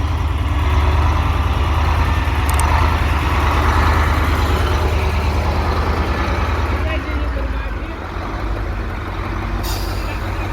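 A 2020 KamAZ 43118 truck with a 300 hp engine and ZF9 gearbox runs at a steady loud rumble close by, with two brief hissing air-brake bursts, while someone talks over it.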